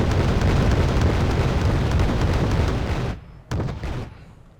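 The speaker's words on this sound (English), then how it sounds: "let's take out these guys with my auto cannons" Autocannon fire in the Wargame: Airland Battle video game, a loud sustained barrage of dense booming bursts for about three seconds, then a sudden drop followed by a couple of shorter trailing blasts.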